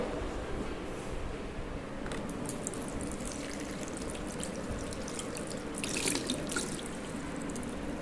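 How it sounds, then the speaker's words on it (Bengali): Water runs from a tap as fresh flowers are rinsed, a steady close splashing stream that grows briefly louder and more spattery near the end, with no voices. "সঙ্গে সঙ্গে ফুলটা একটু ধুয়ে নিই"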